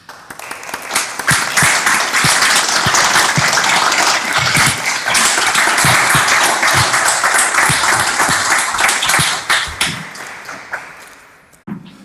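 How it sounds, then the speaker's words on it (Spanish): A hall of newly sworn lawyers and guests at a Supreme Court ceremony breaks into loud, sustained applause, with a few sharp individual claps standing out before it tapers off near the end. "Aplaudamos este logro"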